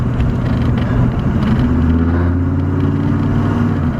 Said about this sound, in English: It's probably the most interesting diesel I've ever heard.